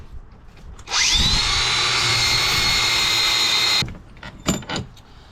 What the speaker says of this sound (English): just one wire brush off the top of these